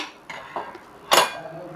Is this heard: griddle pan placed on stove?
yes